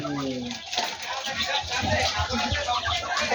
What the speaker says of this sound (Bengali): এই হইল আমার পাহাড়ি মুরগির খামার